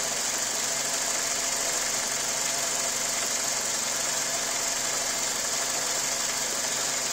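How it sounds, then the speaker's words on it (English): A 2000 Ford Focus engine idles steadily with a faint, even tapping or light knocking underneath a constant mechanical hum, heard close up with no talking. "it kind of almost sounds like a tapping or a little knocking down in there"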